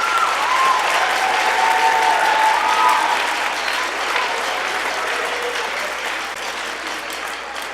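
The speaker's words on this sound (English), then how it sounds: "If we could give them a round of applause for their great work." At a middle school fall and winter concert, the audience gives a full round of applause: a loud, sustained crowd of clapping that slowly eases off toward the end, with a brief whistle near the start.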